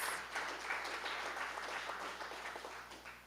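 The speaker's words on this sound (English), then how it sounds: "Give them a round of applause." Audience applause for visual arts nominees at an awards nominee reveal. It is soft and distant, a steady patter of many hands that slowly tapers off toward the end over a low background hum.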